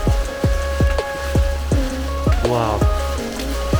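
Rain falls steadily during a Himalayan trek to Shey Phoksundo Lake, a dense close patter with regular low thuds repeating about twice a second throughout.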